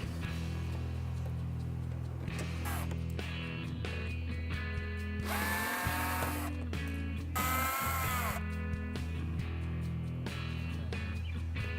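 A power tool spins out 8mm bolts from the inner fender of a 2012–2015 BMW 3 Series, with close, loud bursts of motor whine that rise and fall, separated by ratcheting and handling noises.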